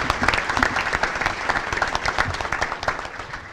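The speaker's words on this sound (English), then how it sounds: "Give them a round of applause." Sustained applause from a crowd at a community breakfast event, many hands clapping densely and evenly for several seconds, filling the room at close range.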